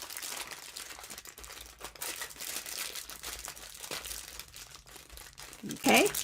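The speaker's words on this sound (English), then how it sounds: "I just bring the foil up. And then I fold it in from the sides." Aluminum foil crinkles as it is folded up and around a frozen beef and cheddar sandwich, a steady close crumpling that runs throughout; a voice speaks briefly near the end.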